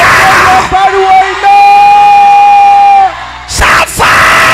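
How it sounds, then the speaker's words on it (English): A crowd at a church gathering yells together in one loud, sustained shout lasting a few seconds, then a brief lull and another burst of raised voices. "Everybody shout fire!"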